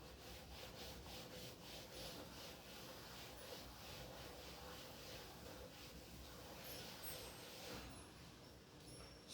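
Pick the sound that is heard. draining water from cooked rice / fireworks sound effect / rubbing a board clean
rubbing a board clean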